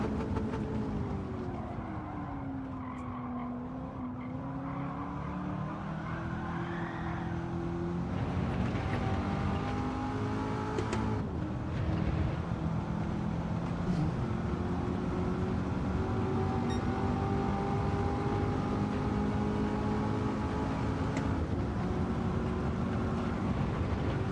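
A race car engine in a racing video game, a steady droning whine that rises and falls in pitch as the car accelerates and slows, continuous and fairly loud.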